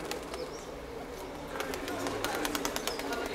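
Gyumri (Leninakan) breed pigeons in Moscow make soft coos, sharp clicks and wing flaps against a quiet outdoor background, with faint voices underneath.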